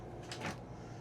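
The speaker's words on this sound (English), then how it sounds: "Got yourself a little hobbit door for some of your storage." A small storage cupboard door aboard a 2003 Prevost Liberty H3-45 motorcoach opens or shuts with a quick, soft swish and click. It is faint and close, over quiet room noise.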